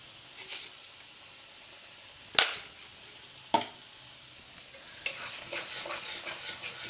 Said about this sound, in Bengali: একদম লো ফ্লেমে আমি এটাকে কষাচ্ছি